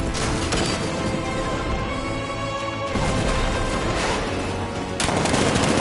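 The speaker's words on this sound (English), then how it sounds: ".60mm cannon operational." Heavy weapon fire from an unmanned tank's 60mm cannon in the video game Batman: Arkham Knight, a loud rapid barrage of repeated blasts and crashes running continuously, with brief shifts in intensity.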